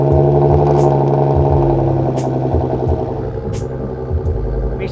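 A 10th-generation Honda Civic Si with an AWE Touring Edition aftermarket exhaust idles with a deep, throaty rumble, then revs a few times in short bursts, loud and close.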